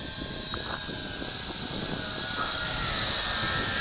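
A Yizhan i8h Tarantula camera drone flies steadily in altitude hold, its whining rotor drone constant and fairly close, with wind buffeting the microphone outdoors.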